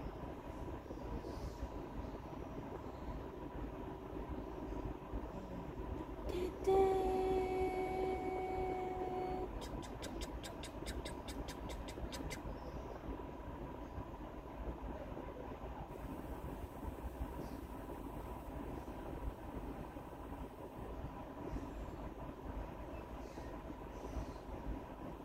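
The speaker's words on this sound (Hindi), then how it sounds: "वो ट्रेन है" A train rolls past steadily at moderate distance, a low rumble with a brief horn-like tone and rhythmic clicking of wheels over rail joints, amid faint outdoor background.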